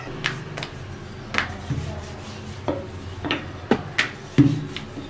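Small pieces of wheat dough for a vegetable roll are rolled out on a board, making scattered knocks, taps and soft scraping sounds close by at an uneven pace.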